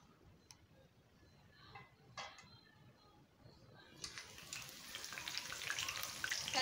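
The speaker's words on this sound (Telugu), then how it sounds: "ఇందులో మనం కర్రీ లీవ్స్ వేసుకుందామండి వేగించుకొని" Curry leaves drop into hot oil for karam boondi, a faint quiet crackle that swells into a louder, bright spattering sizzle in the last couple of seconds, with a few scattered ticks before.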